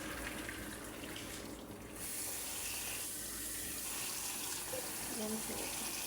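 Tap water runs steadily into a sink while lettuce is washed, a constant close hiss and splash filling the whole stretch with only slight dips.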